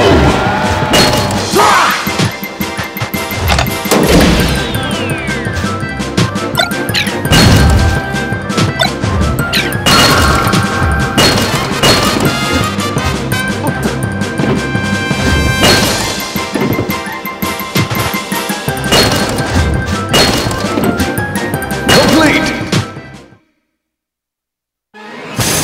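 Project M video game played in Classic Mode on Hard as Marth during a break-the-targets stage, with loud continuous music and repeated smashing and whacking hits that stop abruptly near the end.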